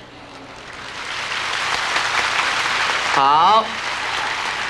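Steady audience applause at a Buddhist lecture, a broad rain-like wash of many hands clapping that builds and continues, with a brief voice cutting in near the end.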